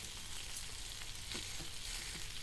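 Bacon sizzling and spitting in the pan of a Mini Trangia camping stove, a steady close crackle with brief louder pops, no talking.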